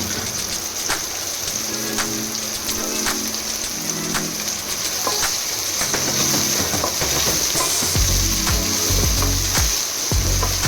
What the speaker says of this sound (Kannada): ಇದನ್ನು ಕೂಡ ಸ್ವಲ್ಪ ಫ್ರೈ ಮಾಡಿಕೊಂಡ್ರೆ ಸಾಕು ಹೆಚ್ಚು ಫ್ರೈ ಮಾಡಬೇಕಂತ ಇಲ್ಲ